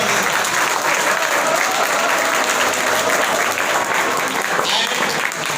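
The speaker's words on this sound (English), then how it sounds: "Okay, just clap for me." Audience clapping at a quiz competition, a dense, loud, continuous round of applause from a crowd that holds steady throughout.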